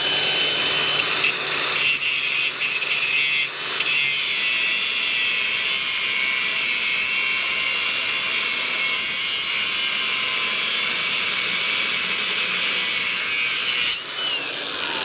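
A power tool grinds through a steel battery tray mount on a 1981 Harley-Davidson Sportster frame, a loud continuous high-pitched cutting whine that runs steadily for most of the span with brief dips near the start and end.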